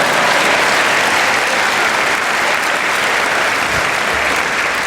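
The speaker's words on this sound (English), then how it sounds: "Clap that shit!" Studio audience applause at a comedy panel show's final episode, a thick, continuous roar of clapping held at an even, loud level from start to finish.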